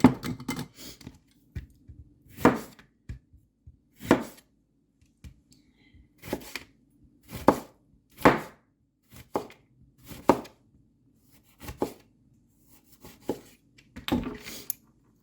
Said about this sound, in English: You can cut them as thick and as thin as you want.